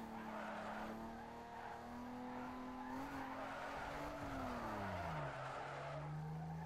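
Tire squeal from a car drifting in the racing game Need for Speed Underground 2, a Toyota Supra, a sustained loud skid whose pitch holds steady and then bends downward near the end, over continuous engine noise.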